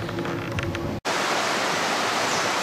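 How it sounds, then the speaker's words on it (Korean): Steady, loud broadband rush of flowing water, continuous apart from a brief cut near one second, with faint tones under the first part. "한국 하시는 분들은 이 물소리 들으면 어때요?"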